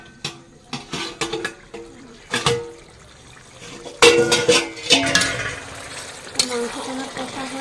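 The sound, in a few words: stirring meat in a cooking pot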